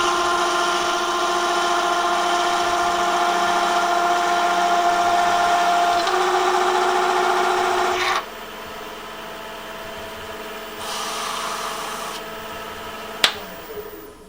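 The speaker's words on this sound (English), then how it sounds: "The lathe's still at a low speed." A lathe hums steadily at low speed while a tool works decorative crosshatch texture into the spinning piece, a constant tonal whine that shifts and quiets partway, ending with a sharp tap.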